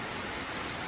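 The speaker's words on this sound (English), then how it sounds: "I'll wait till the rain stops" Steady rain falls outdoors beside a Ford BF XR6 being fitted with new headlights and a front bumper, giving a continuous, even hiss of drops on hard surfaces with no voices.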